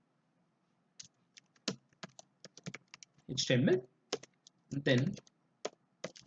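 Keys clatter on a computer keyboard in irregular bursts of clicks and taps while someone types code, with brief spoken words breaking in between the keystrokes.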